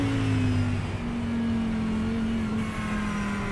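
An Audi GT3 race car at Bathurst in a racing video game holds a steady mid-pitched engine drone, with slight shifts as the driver eases off the throttle, without commentary.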